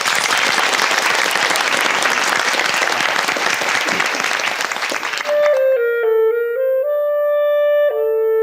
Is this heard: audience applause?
yes